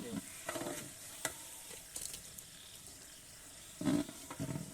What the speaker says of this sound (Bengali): মাংস দিচ্ছি, আপনি একটু নাড়েন, ভালো করে নাড়েন